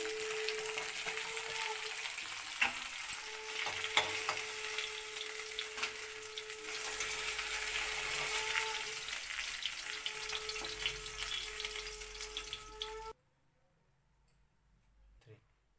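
Kangla fish pieces frying crisp in hot oil for a mustard chorchori, a continuous close sizzle with a few clinks and scrapes, cutting off abruptly to near silence near the end.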